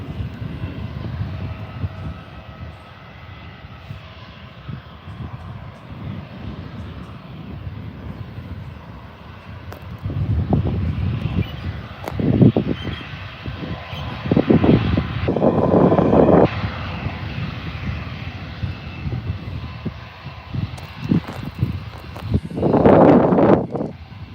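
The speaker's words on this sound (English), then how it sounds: "And here comes the Virgin A320." A Virgin Airbus A320 airliner moves at Adelaide Airport, a low engine rumble building steadily over wind noise outdoors, with louder surges near the end.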